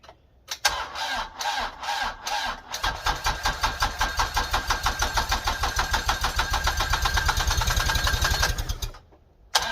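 An LS MT122 tractor's diesel engine cold-starts at -25°F without a block heater, cranking and chugging for several seconds, catching into a rapid, rising rumble before cutting off abruptly; loud and close, with no talking.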